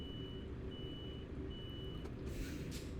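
A heavy truck in a trucking simulator gives off a high, evenly spaced reversing beep, several pulses in a row. The beeps sit over a loud, low engine rumble, with a brief hiss of air near the end.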